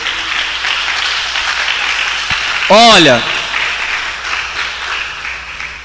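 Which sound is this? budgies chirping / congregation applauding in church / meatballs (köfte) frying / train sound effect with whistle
congregation applauding in church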